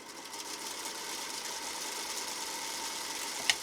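An old Singer sewing machine motor runs on its own, giving a steady, moderately loud hum and whir with a faint rattle and a single small click near the end.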